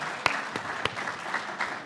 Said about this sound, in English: How about another round of applause for Earl Kitching?